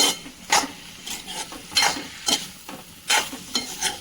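Onions tossed into a frying pan and stirred, a series of distinct scraping stirs about every half second over a soft sizzle, near and fairly loud, without any speech.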